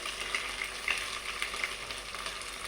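Masala frying in a pan for gongura chicken curry, a steady bright sizzle with soft crackles and occasional stirring, close and alone without talk.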